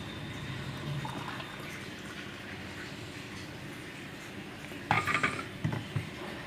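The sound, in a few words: pouring blended grape juice into a container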